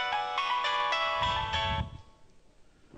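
A mobile phone rings loudly during a stage comedy play, its melodic ringtone repeating in steady bursts for about two seconds before cutting off abruptly, leaving only faint background noise.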